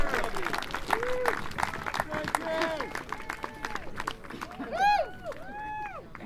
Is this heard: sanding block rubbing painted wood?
no